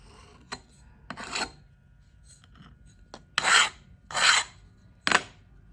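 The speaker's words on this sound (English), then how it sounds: "And we'll scrape that flat." Casting sand being scraped flat across a flask for jewellery sand casting: several close, gritty rasping strokes, a few short clicks at first, then three longer, louder scrapes, with no talking.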